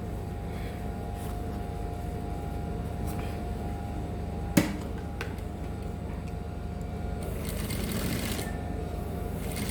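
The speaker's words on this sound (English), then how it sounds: "Now top stitch this down part." A sewing machine top stitches a pocket on culottes, giving a quiet, steady mechanical whir with a faint rhythmic ticking, interrupted by one sharp click midway, then running on.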